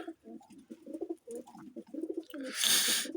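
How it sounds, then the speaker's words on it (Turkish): A pigeon indoors coos repeatedly nearby in soft, throaty bursts, ending with a brief rush of noise. "İçeriye kuş girdi."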